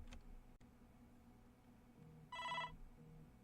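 A phone rings faintly in a quiet room during an online card game, a short bright electronic trill sounding once for about a third of a second over low background hum.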